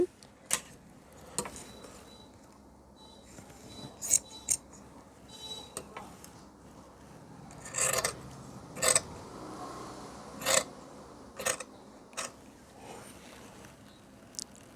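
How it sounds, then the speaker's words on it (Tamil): Scissors cutting chudithar uniform fabric on a tailoring table, sharp snipping crunches coming in short separated bursts at irregular intervals, close and fairly quiet against a still room. "இப்போ பேக்கினுடைய அளவுக்கு அப்படியே கட் பண்ணுறோம்"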